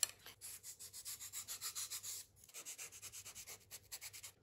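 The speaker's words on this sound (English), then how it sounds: "So this is going to need sanding." Rhythmic back-and-forth sanding of small inserts for a model SLEC KD Perkasa torpedo boat, quick even strokes with a short pause midway, close and fairly quiet.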